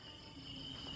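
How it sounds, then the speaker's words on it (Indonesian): Crickets chirp steadily in a forest at night, a dense, continuous high-pitched insect drone that holds at a constant level throughout with no voices. "Bunyi jangkrik"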